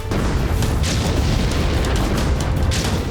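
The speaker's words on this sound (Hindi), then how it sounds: "एक द्वीप को थर्रा देने वाला यह धमाका एक छोटे परमाणु बम का था।" A small atomic bomb explodes over an island, producing a deep, sustained blast rumble with rolling bursts of broadband roar that stays loud and continuous.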